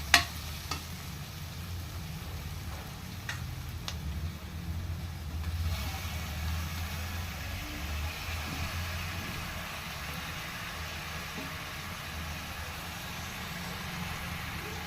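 Prawns frying in a pan with turmeric and tomato for a prawn curry, a quiet steady sizzle after a sharp clatter at the start, with a few light stirring clicks and a low background rumble.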